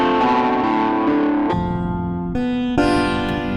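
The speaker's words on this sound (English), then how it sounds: "We can get into the right distortion here." Heavily distorted, buzzy sustained tones from the Bandit app's distortion effect shift between pitches in blocky steps, with no voices present.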